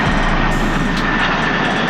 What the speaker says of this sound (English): If y'all hear that, that's the plane in the background.